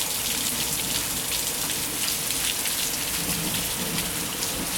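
Heavy rain pours steadily during a massive thunderstorm in Springfield, Illinois, a dense unbroken hiss of drops on surfaces filling the whole stretch, loud and close, with no voices.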